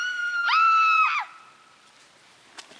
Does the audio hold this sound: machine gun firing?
no